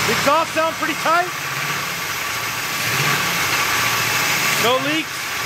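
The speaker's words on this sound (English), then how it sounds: "Exhaust sound pretty tight." A 440 engine idles through the exhaust of a 300 car, a steady mid-pitched rumble with occasional voices talking over it near the start and end.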